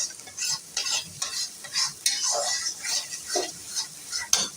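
Spices being stirred into mustard hilsa fish in a pan, heard as repeated close scraping strokes over a soft sizzle, with an uneven rhythm and no voices.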